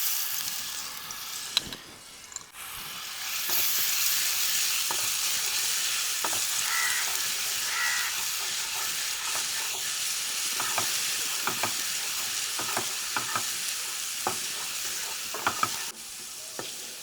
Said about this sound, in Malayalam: കുറച്ച് വെളിച്ചെണ്ണ ഒഴിച്ചു കൊടുക്കാം കുറച്ച് വെളുത്തുള്ളി ഇഞ്ചി പേസ്റ്റ് ഇട്ട് കൊടുക്കാം